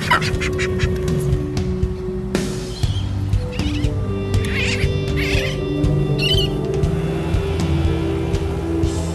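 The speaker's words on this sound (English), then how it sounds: "we have birds that like to land on our balloon launcher" Seabirds squawk and call repeatedly, close by, around a weather balloon launcher on Willis Island, with loud harsh cries over outdoor background noise.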